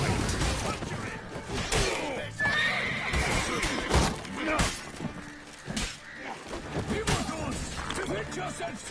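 Horse neighing and whinnying in The Witcher 3: Wild Hunt on PS5, heard amid a noisy medieval combat scene with shouting voices, clattering and crashing effects.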